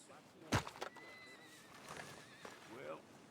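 A horse in the video game Red Dead Redemption 2 gives a short whinny near the start, with faint hoof clops and game ambience under it and talking going on throughout.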